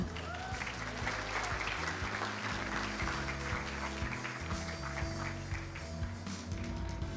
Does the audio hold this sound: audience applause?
yes